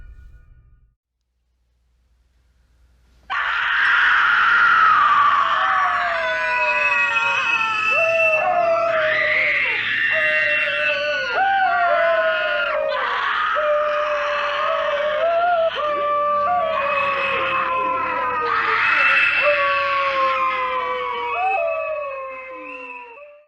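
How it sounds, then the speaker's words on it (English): In a horror film scene, a woman screams in anguish while a family howls along with her, sustained, loud wailing and shrieking cries that overlap continuously for about twenty seconds. "as she begins screaming in anguish, the family howls along with her"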